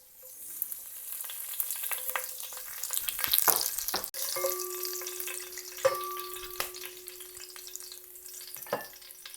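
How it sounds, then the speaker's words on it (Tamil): Whole garam masala spices such as cinnamon and cloves sizzle in hot ghee for Chennai-style mutton biryani, a close, steady frying crackle with bursts of stirring and a few clanks of a utensil against the pan. "நெய் நல்லா காஞ்சதும் அதில் நம்ம எடுத்து வச்சுக்கிற கரம் மசாலாவை சேர்த்துக்க போகிறோம்."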